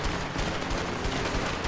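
Rapid enemy gunfire in the co-op video game A Way Out, a dense, continuous barrage of shots at steady loudness with no pauses across the short burst.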